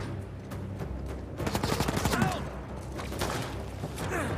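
Pistol gunfire in the video game Uncharted 4, a run of quick shots with a dense burst in the middle, mixed with game sound effects and occasional speech.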